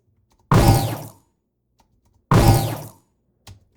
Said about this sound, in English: You can even try the explosion there.